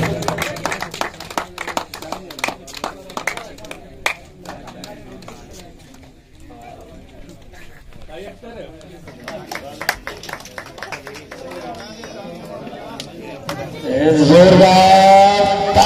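Audience applause at the final of a Punjab cricket tournament: scattered, crisp claps rise into a fuller burst of clapping near the end, mixed with an announcer's amplified voice.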